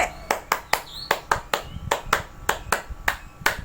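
Rhythmic group hand-clap chant from a Hizbul Wathan scout lesson: about a dozen sharp, evenly spaced claps in a steady beat, close and crisp, with little else around them.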